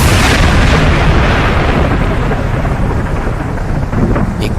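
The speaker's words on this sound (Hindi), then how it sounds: "अचानक आसमान में तेज बिजली कड़कती है।" A loud, close thunderclap from a lightning strike near an old haunted mansion roars continuously for several seconds as a dense, crashing rumble that slowly eases; no voices.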